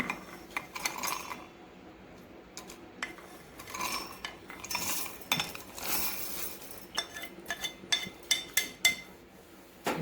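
Roasted peanuts and garlic tumble into a mixer jar with scattered clinks, rattles and small hard taps, some light and some sharper, spread over about ten seconds.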